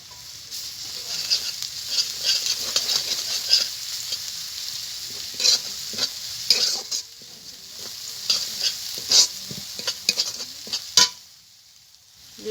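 Garlic paste hitting hot oil with already-fried chopped onion for ghugni, a steady close sizzle broken by repeated scraping stirs of a spoon in the pan, with no talking.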